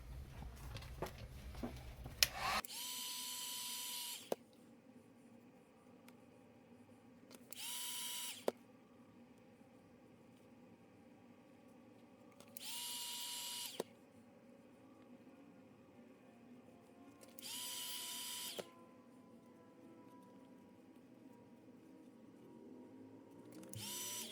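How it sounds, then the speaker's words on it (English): A heat gun reshapes the jaw of a Death Stranding Higgs mask, its blower hissing on in several separate bursts of a few seconds each with quiet gaps between, nearby and with no talk. "the first thing I'm going to work on here with the heat gun is finishing rounding out this jaw right here"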